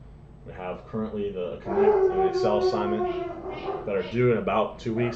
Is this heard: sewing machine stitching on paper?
no